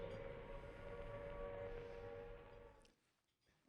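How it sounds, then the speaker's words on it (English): Air raid siren recorded in Trafalgar Square by St Martin-in-the-Fields, archival: a steady, sustained wailing tone over a broad rumble, holding level for nearly three seconds before abruptly dropping away into near quiet. "The noise that you hear at the moment is the sound of the air raid siren."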